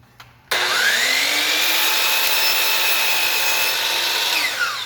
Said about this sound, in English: We can cut shorter boards on the miter saw to the length we want.